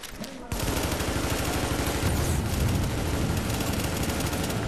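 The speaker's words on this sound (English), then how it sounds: "Good thing this freaking sniper rifle is kind of an automatic." A semi-automatic sniper rifle fires in The Division's Dark Zone, starting after a short quiet lead-in and continuing as rapid, evenly spaced shots that blend into a loud, dense, sustained volley close by.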